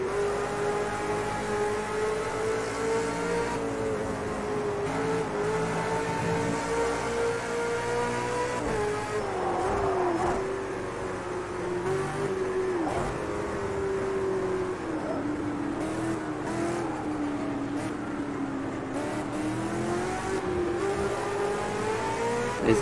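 Racing car engines in Project Cars 2 drone continuously at high revs, the pitch dipping and climbing with gear changes and throttle, a constant loud mechanical whine with no talking.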